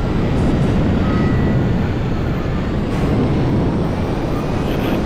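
A stolen U.S. military jet in GTA 5 roars steadily and loudly, a constant dense engine and air rush with no breaks and no voices.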